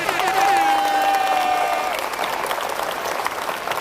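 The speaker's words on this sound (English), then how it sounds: "Big round of applause for those guys." Loud round of applause from an audience at a national youth climbing championship lead final, with a whistle or high cheer ringing out through the first half before the clapping continues steadily on its own.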